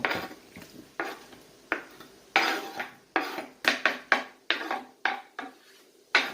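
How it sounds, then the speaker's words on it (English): A vegetable mixture for a frittata is scraped and spooned into a greased casserole dish, giving a run of sharp, close clinks and scrapes of utensil against dish that come in quick, uneven bursts. "now we are going to put all of this into our casserole dish, which, like I said, has already been greased"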